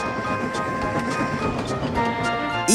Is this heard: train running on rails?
yes